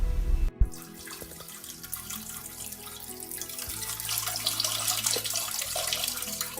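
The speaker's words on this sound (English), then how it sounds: "What better way to relieve pressure than peeing on the course?" A golfer pees on a golf course, heard as a steady splashing trickle of liquid that runs continuously over faint outdoor ambience. There is a brief thump near the start.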